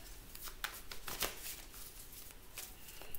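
Playing cards shuffled and laid out during a tarot-style reading: a steady run of crisp riffling and sliding snaps, close and moderately loud, with no voices.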